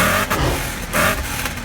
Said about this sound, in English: Let's try a V8, because I miss my V8.